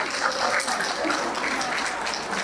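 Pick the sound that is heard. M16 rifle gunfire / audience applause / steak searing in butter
audience applause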